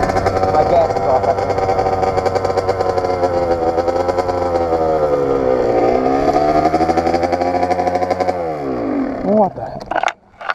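A dirt bike engine runs loud and close, revving and settling in a continuous rough drone with shifting pitch before sputtering and cutting out near the end, with a rider talking over it.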